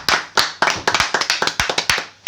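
A small group claps, with sharp distinct claps in an uneven rhythm, close and loud for a couple of seconds with no voices over it.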